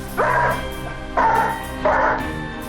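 A stressed dog gives three short high-pitched whining yelps, evenly spaced, close and loud, with a faint steady hum underneath, as its owner leaves.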